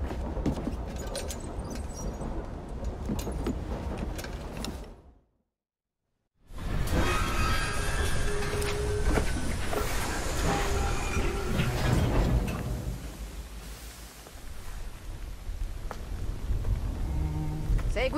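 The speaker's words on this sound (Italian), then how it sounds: "Ora stacco la locomotiva per creare un diversivo." Steam-era train rumbling and clattering along rails in a Victorian London setting from Assassin's Creed Syndicate, a locomotive being uncoupled, steady and loud with a brief silent gap midway, then mechanical rattles and clanks resuming.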